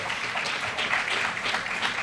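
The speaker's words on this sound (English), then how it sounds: "give yourselves a round of applause" A crowd in a mosque applauding steadily, a dense wash of clapping that holds at an even level throughout.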